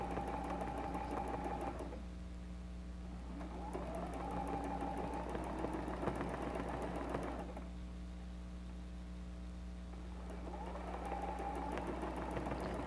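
A sewing machine runs steadily, stitching a quilted patchwork cross-back apron. It gives a close, continuous mechanical whir with a fast rhythmic pulse, easing into a softer stretch partway through before picking up again.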